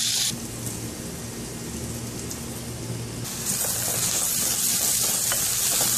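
Onions sautéing in a pan for a roasted-coconut Kerala chicken curry, a continuous close sizzle that grows louder and brighter partway through, with no speech.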